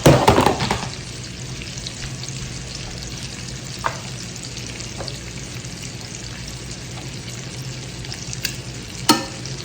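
Shrimp cooking in a hot pan give off a steady low sizzle, opening with a louder burst as they hit the oil, then settling into quiet frying broken by a few sharp utensil clicks.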